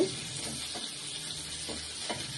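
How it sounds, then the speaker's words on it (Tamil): Green chillies frying in oil for a tamarind mandi, a faint even hiss of sizzling with a few soft stirring strokes, heard briefly and with no voices. "நல்லா எண்ணெயில் நல்லா வதங்குது"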